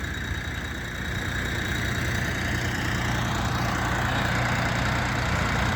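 A Sintai XT-244 mini tractor engine runs steadily nearby, a continuous rumbling drone that grows slightly louder as it drives in circles.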